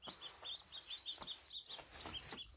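Quiet, close chick chirps repeat rapidly from a naturally hatched Cheonggye brood beside a hungry mother hen eating feed, with soft pecking taps and low clucks underneath.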